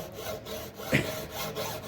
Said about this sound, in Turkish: Bakın kıl testereyle kesiyoruz.